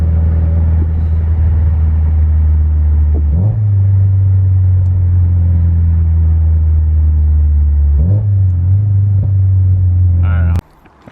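Subaru STI engine running steadily while driving, a loud continuous low rumble and road drone close up, with brief shifts in tone and a clunk at the end.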